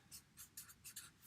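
Pen or marker writing on a surface during an anatomy lesson on the reflex arc, a few short scratchy strokes in quick bursts, faint and close, with no talking.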